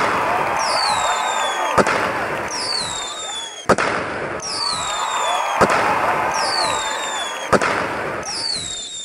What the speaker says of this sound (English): I will put on a firework show for everyone on deck.